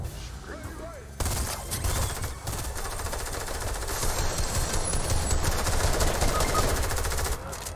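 Rapid automatic gunfire in a Fortnite match rattles in long, loud bursts that build and hold for several seconds, with a brief quieter moment near the start and voices talking faintly underneath.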